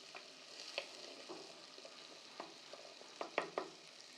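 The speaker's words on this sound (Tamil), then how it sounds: "நல்லா இந்த வெங்காயம் வந்து அப்படியே பிங்க் கலரில் அப்படியே வெந்து சூப்பராக வரட்டும்." Onions frying in coconut oil for a Kerala beef curry, a soft, quiet sizzle with light scraping and stirring clicks at irregular moments.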